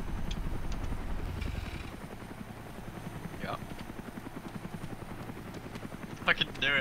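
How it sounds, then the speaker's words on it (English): Helicopter in the Arma 2 video game, a steady rotor chop thudding throughout while voices talk over it. "Shall I try and blow that helicopter up, Jamie?"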